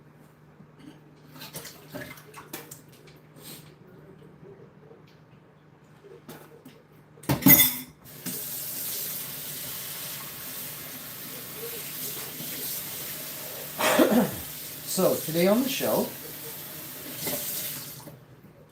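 A cat's food bowl and water dish are washed under a running kitchen tap: a sudden gush of water runs steadily, with brief clatters and splashes of dishes, after a quiet stretch where a person speaks.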